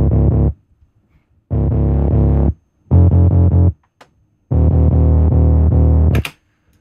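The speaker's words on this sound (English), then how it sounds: "It's just the fuzz bass, which comes with Serum" Serum fuzz bass synth with most of the high end cut, four sustained distorted low chords of varying length separated by short silences, thick and buzzing.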